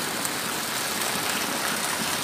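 Steady rain mixed with rushing stream water, a dense, even hiss that fills the whole span with no pauses and no voices.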